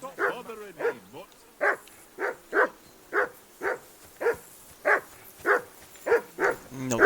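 Dog barking in Kingdom Come: Deliverance 2, a steady series of about a dozen sharp, evenly spaced barks at close range, each short and similar in loudness, with occasional speech nearby.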